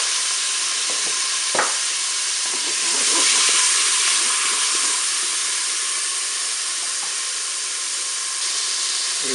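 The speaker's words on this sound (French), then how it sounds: "je vais faire revenir les oignons." Onions sautéing in melted butter inside a Cookeo multicooker pot, a loud, even sizzling hiss with a brief stir or clink near the start, unbroken and close, without voices.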